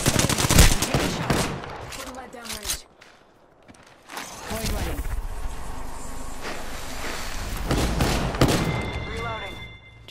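Apex Legends gunfire: sharp, loud bursts of rapid shots at the start, a short lull, then further scattered fire and impacts, with players talking throughout.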